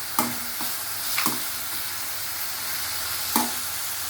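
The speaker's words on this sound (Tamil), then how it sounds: "ஜஸ்ட்டு வடச்சட்டியில் எண்ணெய் ஊற்றிட்டு வெங்காயம் தக்காளி போட்டுட்டு அதுக்கிட்டே இருக்கும்" Onion and tomato fry in oil in a kadai with a constant close hiss, broken by a few sharp taps and scrapes of a stirring spoon.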